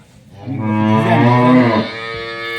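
An improved-breed dairy cow on a farm lets out one long, loud, close moo that rises, holds for about a second and a half, then fades into quieter lowing.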